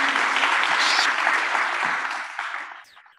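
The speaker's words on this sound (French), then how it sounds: "On peut encore les applaudir pour la présentation de ces trois projets" Audience at a rural innovation awards ceremony in France applauding three project presentations, a loud, close burst of clapping that thins and dies away over about three seconds.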